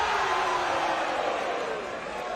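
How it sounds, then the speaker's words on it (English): A crowd cheers with a broad, steady roar at a high school wrestling match, loud and sustained throughout the moment. "Crowd likes that"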